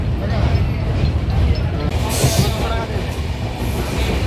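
A passenger train runs at night toward Bardhaman Junction, with a steady heavy rumble, rhythmic wheel clatter and faint squeals from the rails, while voices murmur inside the carriage.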